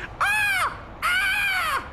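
A cartoon crow gives two loud, drawn-out harsh caws, one short and one longer, clear and close with no talk over them.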